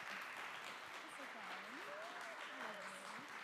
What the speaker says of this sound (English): One more round of applause for these talented directors.